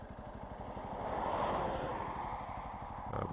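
A Honda CRF 300 Rally motorcycle cruises steadily along a dirt road, its engine a continuous low drone mixed with wind buffeting the microphone, rising slightly in the middle and holding steady to the end.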